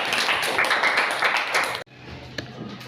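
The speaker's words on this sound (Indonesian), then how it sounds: "kita berikan tepuk tangan" A room of people applauding for a group, dense steady clapping close by that cuts off abruptly, followed by quiet room tone with a stray tap.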